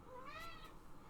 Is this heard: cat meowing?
yes